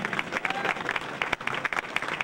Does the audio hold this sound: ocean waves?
no